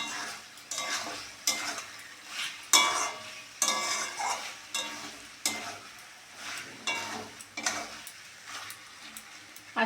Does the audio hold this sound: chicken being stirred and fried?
yes